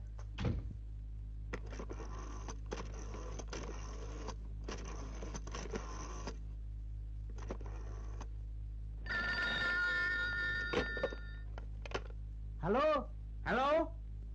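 A telephone rings in repeated bursts of bright metallic bell tones, with dialing-like clicks and other sounds between, fairly faint.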